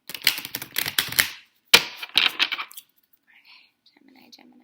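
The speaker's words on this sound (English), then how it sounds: "I'm going to shuffle one more time" Tarot cards being shuffled by hand in quick riffling bursts, two rapid flurries of papery flicks close up, then near silence with a faint rustle.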